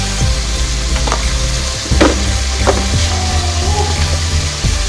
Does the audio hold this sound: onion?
yes